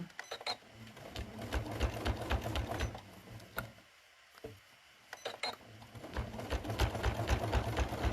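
A sewing machine stitches along the lines of a folded star trivet in rapid rhythmic bursts. It pauses briefly midway, then whirs on again, fairly close and moderately loud.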